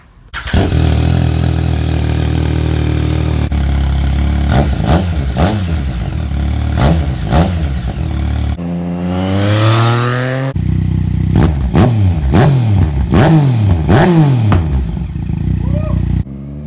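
A Yamaha FZ-09 motorcycle with a loud M4 slip-on exhaust, baffle removed, starts up close by and revs hard again and again, each blip rising and dropping back to idle.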